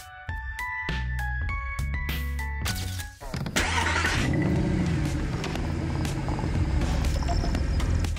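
Mercedes AMG 6.2-litre V8, with door and interior chimes ringing before the engine fires and settles into a deep, steady, loud idle.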